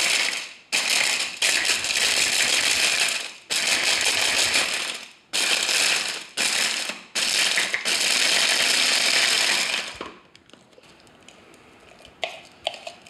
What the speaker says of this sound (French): Donc, on va mixer par à coup.